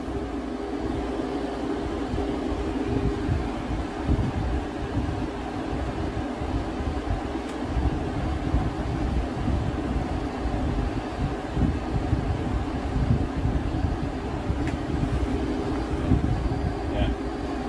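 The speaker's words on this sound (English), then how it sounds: "Blowing really nice cold air." A Frigidaire 5000 BTU window-mounted room air conditioner runs with a steady, even whoosh of blowing air and a low mechanical hum, constant and fairly quiet throughout.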